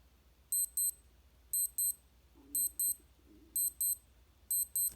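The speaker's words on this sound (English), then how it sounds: "I can test and listen to the alarm." A Casio G-Shock GWM500A-1 digital watch alarm beeps in quick high-pitched double bursts that repeat about once a second, close and clear over a quiet background.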